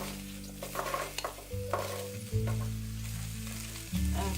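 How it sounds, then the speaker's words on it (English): Rhubarb tumbles into a pot for a cobbler and is stirred, with soft scraping and clunking of a spoon over a low hum and a light sizzle, close and steady, with no speech. "into the pot I'm going to add the rhubarb"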